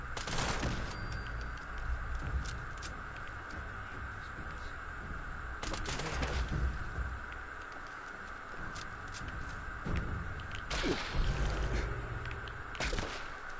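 Gunfire aimed at a turret in Fallout 76, a steady stream of rapid shots over a dense game soundscape, with louder bursts around the middle and near the end.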